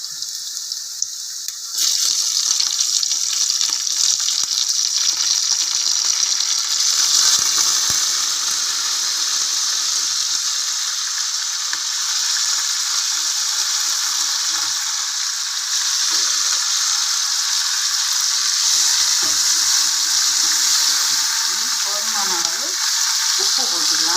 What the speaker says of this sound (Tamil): இனி நம்ம இதுக்குள்ளே இந்த மீனை போட்டுக்கலாம்.